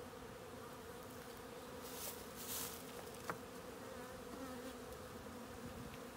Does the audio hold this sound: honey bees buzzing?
yes